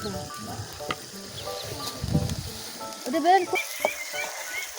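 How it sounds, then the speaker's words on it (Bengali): Spice paste (masala) frying and sizzling in a pan while cooking fish curry, a steady close crackle with stirring scrapes, and faint voices and background sounds mixed in. "মশলা কষানো হয়েছে এখন মাছগুলো দিয়ে দিব"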